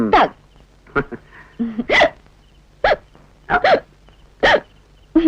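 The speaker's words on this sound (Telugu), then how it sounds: "ఏంటి ఎక్కిళ్ళు వస్తున్నాయి" A string of about six short, sharp hiccups at uneven intervals, close by, with a faint voice between some of them.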